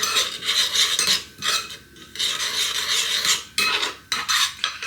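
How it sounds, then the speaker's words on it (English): A dry seasoning mix is stirred briskly in a bowl, giving close raspy scraping and rubbing strokes in quick bursts with short pauses, alone without talk. "Then give it a quick stir."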